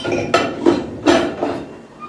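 Dishes and cutlery clatter in a home kitchen during dishwashing, four sharp bursts of clinking metal and crockery in quick succession, close and loud with no talk.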